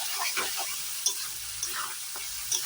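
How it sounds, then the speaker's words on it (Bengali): Ghugni fries with goat fat and is stirred hard in a pan, producing a continuous close sizzle with rhythmic scraping strokes and occasional metallic taps of the spatula. "তো এবারে এটাকে ভালো করে আবার কষিয়ে নেব, খুব ভালো করে আমি কষিয়ে নেব"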